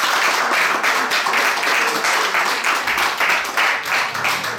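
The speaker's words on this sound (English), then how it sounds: "can we get a big round of applause for Mal" An audience applauds at the end of an evening magic show, a steady, fairly loud wash of many hands clapping with slight swells, continuing for several seconds with no one speaking.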